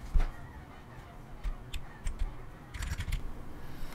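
Keys tapped on a computer keyboard while entering an Epson L3250 printer's serial number, short bursts of clicks building to a quicker run of typing near the end, fairly faint over low room noise.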